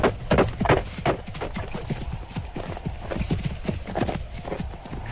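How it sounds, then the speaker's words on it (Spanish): Horse hooves clip-clop at a steady walking pace along a short causeway toward a house, rhythmic and fairly close, with a narrator speaking over them. "cabalgué por una corta calzada que me condujo a la casa"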